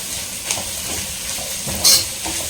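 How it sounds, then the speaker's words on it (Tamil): Onion, cabbage and spring onion for paneer vegetable fried rice sauté in a hot pan with a steady, loud sizzle. A spatula scrapes and clicks through it, with no talking. "இந்த டைம்லேயே நான் ஆனியன் வதங்கணும். அது கூடவே வந்து பார்த்தீங்கன்னா கேபேஜும் அதுக்கப்புறம் ஸ்ப்ரிங் ஆனியனும் சேர்த்துக்கிறேன்."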